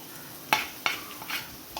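Chopped mango and fried chili paste for a Kerala-style pickle are stirred in an iron pan, giving a few soft scraping strokes against a faint sizzle. It is quiet and close, with no voices.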